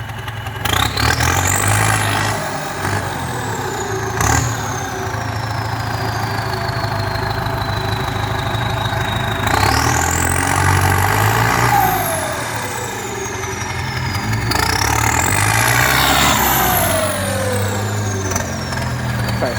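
A TS90 truck with a large filter and a hydraulic pump, running fast on a road test after an inspection: a loud, steady engine drone throughout, with rising and falling whining tones sweeping up and down as gears change.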